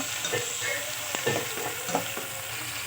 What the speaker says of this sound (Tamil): தக்காளி எல்லாமே ஆட் பண்ணியாச்சு. வதக்கி விட்டுக்கலாம் நல்லா.